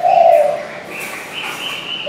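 Spotted dove cooing close and loud, a few soft repeated coos across about two seconds.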